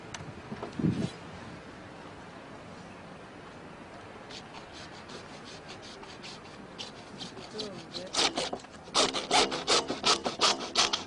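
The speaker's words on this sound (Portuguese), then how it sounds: "Com o arco de serra, você vai serrar os tubos no tamanho certo." Hacksaw cutting plumbing pipe to length: quiet scraping strokes for most of the stretch, then a run of loud, rapid rasping back-and-forth strokes near the end, with speech nearby.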